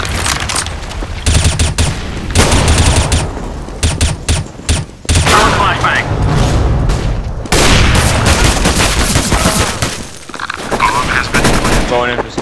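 Bursts of rapid gunfire and heavy booming explosions, including a grenade blast, crackle loudly and almost continuously through a first-person shooter video game match, with brief quieter gaps between volleys.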